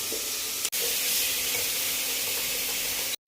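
Tomato spice masala stirred in a frying pan for jackfruit curry, a steady close sizzle with soft stirring scrapes running through, briefly cut off once before resuming.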